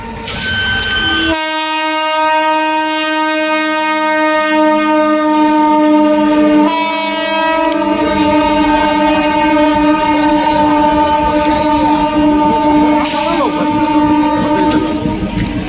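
The Ziyarat Express at Dildar Nagar railway station sounds a long, loud horn blast, then gives two shorter blasts while the train rumbles and clatters past close by.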